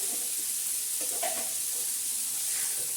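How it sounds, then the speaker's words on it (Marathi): Wild pathri greens sizzle steadily in hot oil with onion in a pan while being stirred, a loud continuous frying hiss with a few scraping stirs and no talking. "आता ही आपण परतून घेणार आहोत."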